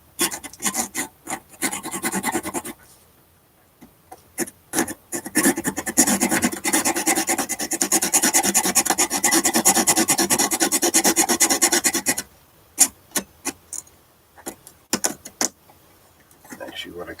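A file rasps against wood while repairing an 1890 parlor guitar, coming in short strokes, then a long steady run of rapid filing, then sparse strokes again, close up with no talk.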